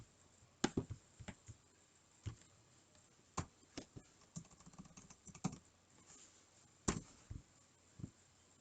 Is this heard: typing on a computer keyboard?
yes